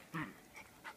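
A little puppy gives a quiet whimpering yip, then two softer whines, faint and close, without any talking.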